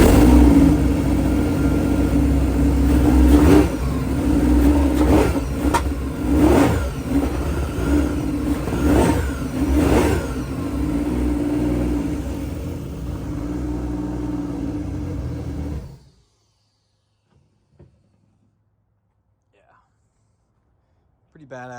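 A Sea-Doo RXP-X 260 turbocharged jet ski engine starts and revs with rising, sputtering bursts, then idles loudly before cutting off into near silence.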